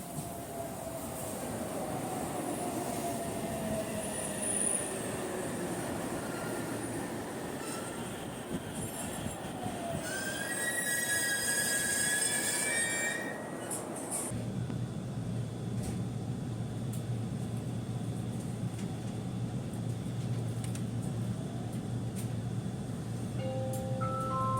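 A train passes through a station on the Aichi Loop Railway in Japan. A steady rolling rumble carries high, ringing wheel squeals through the middle of the pass, then settles into a lower continuous drone. No one speaks.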